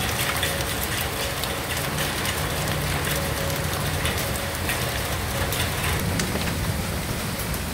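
Heavy rain pours steadily during a storm in Ottawa, a dense continuous hiss of drops on surfaces with wind, loud and unbroken with no talk.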